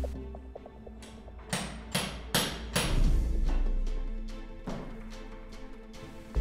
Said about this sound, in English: And then you just hammer it, and it should lock in place.